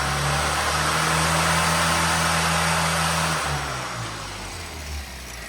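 A Stage 1 Mini 998 engine holding high revs during on-the-road carburettor tuning, a loud steady mid-pitched drone that eases and drops off toward the end, with no talk.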